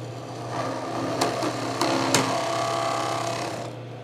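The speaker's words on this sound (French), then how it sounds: "Je prends la manivelle et je perce." A workshop drill press runs with a steady motor hum while the bit is fed in, close and moderately loud, with a few sharp clicks and scraping ticks partway through before the sound eases off.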